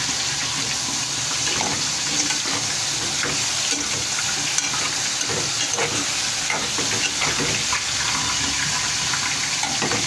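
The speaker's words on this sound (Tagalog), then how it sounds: "Igisa ko na yan." Food sautés in a cooking pot with a steady, crackling sizzle that continues evenly throughout, close by and with no talking.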